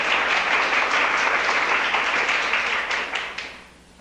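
A church congregation applauds during a sermon, a loud, dense sustained wash of clapping that fades away over the final second.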